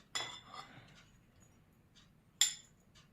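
A spoon stirring fruit chaat with sugar in a bowl, faint scattered clinks and scrapes with two sharper knocks against the bowl.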